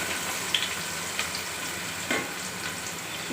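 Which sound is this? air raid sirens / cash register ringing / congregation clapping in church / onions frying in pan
onions frying in pan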